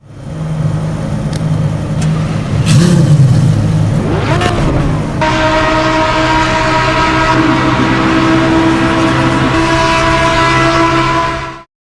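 A race car engine in the Assetto Corsa EVO sim roars steadily, its pitch sweeping up in a quick rev partway through before settling into a loud, sustained drone.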